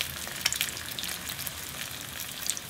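Flatfish, with its liver and roe, pan-frying in oil over medium heat, giving a steady dense sizzle with a few sharper pops and crackles throughout, close and alone with no voices.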